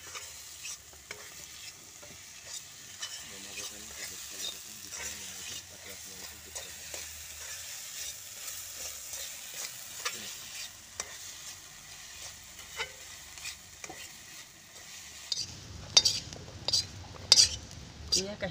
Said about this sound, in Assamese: এয়া ভাজিম।